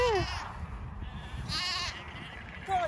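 Several sheep and lambs on a farm bleat in turn, wavering cries rising over a busy outdoor background, one close call at the start and another at the end.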